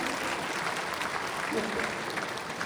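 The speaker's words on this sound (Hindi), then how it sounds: "जोरदार तालियों से आप मंचासीन समस्त अतिथियों का स्वागत करें" An audience at a Khadi festival in Uttar Pradesh claps loudly to welcome guests seated on stage, a dense, steady wash of applause without a break for a few seconds.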